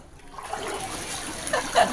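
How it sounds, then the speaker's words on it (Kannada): Rainwater rushing and splashing into low-lying houses after heavy rain in Haveri, a steady loud wash of flowing water with brief sharper splashes toward the end. "ತಗ್ಗು ಪ್ರದೇಶದ ಮನೆಗಳಿಗೆ ಮಳೆ ನೀರು ನುಗ್ಗಿದೆ"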